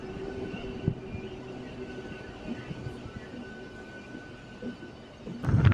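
An Anantapur to KSR Bengaluru MEMU train rumbles along at speed, a steady rolling clatter heard from inside the coach, rising louder near the end.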